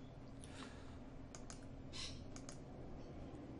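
Quiet typing on a computer keyboard, a short scattering of soft key clicks over low steady background hum.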